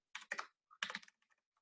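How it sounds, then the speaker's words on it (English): A short burst of keystrokes on a computer keyboard: two quick clusters of taps, a pause, then another run trailing into a few light, faint clicks, all in a quiet room. "I'm just typing it in so it's easy for you guys to understand"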